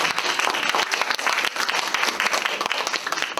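An audience at a dialect speech contest award ceremony claps loudly and densely, a close, continuous burst of applause with no speech over it.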